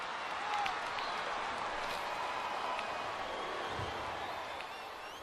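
Crowd cheering in an old-school WWE wrestling video game, a dense, steady roar of cheers and applause filling the whole stretch at an even level without a break.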